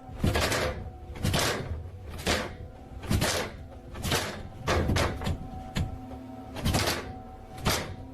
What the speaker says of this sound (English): the attic door starts rattling jarringly